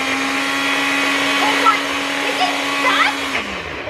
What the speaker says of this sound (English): Okay, let's just blend it up.